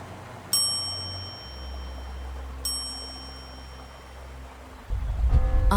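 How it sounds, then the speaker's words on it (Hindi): A bright metallic bell rings twice, each strike ringing out and slowly fading, followed by a louder rumbling splash-like noise at the end. "वह घंटी बजाता है।"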